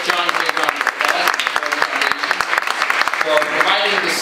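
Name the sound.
audience applause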